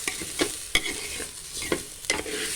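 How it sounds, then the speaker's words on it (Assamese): Soft sizzling of bora rice frying in cow ghee over a low gas flame, with repeated scraping stirs, a spoon clicking against the pan every so often. "এইদৰে অকণমান বৰা চাউলখিনি গৰু ঘিউতে ভাজি ল'ব লাগে"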